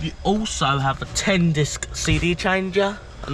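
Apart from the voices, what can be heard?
No distinct noise like a dog, phone or traffic.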